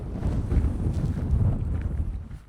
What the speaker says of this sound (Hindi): हवा भी ठीक ठाक तेज़ हवा है यहाँ पे